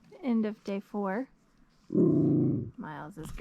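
A small schnauzer dog on the Foothills Trail lets out a loud, close, rumbling growl lasting under a second, preceded by a few short whiny voiced sounds and followed by more.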